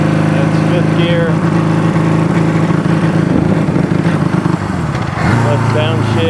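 A Honda CB200T motorcycle engine with a broken camshaft runs in fifth gear, a loud steady buzzing drone with slight breakup and a dip in revs near the end, with someone talking over it.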